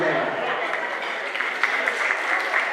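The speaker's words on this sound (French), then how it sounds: "Est-ce qu'on peut applaudir pour elle?" Guests at a wedding evening reception applauding, a dense sustained wash of clapping from a crowd indoors, steady and moderately loud throughout with faint voices mixed in.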